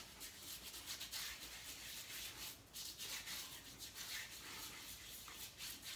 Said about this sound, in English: lather this up a little bit